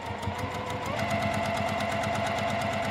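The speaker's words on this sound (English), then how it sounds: "So I am going to run a stitch 1/4 inch from the edge." A sewing machine runs a steady stitching line through quilt fabric and batting, a quarter inch from the edge, with a continuous close mechanical whir and rapid needle rhythm throughout.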